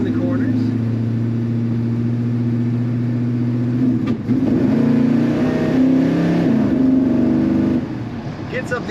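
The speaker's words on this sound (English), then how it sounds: "Gets up the RPMs pretty quickly and shifts down as it should with that automatic transmission" A 1981 Chevrolet C10 regular cab engine revs up with a low, steady drone from inside the cab. Pitch climbs and then drops as the automatic transmission shifts, and the engine stays loud and close throughout.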